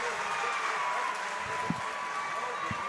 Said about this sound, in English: You can hear the student section.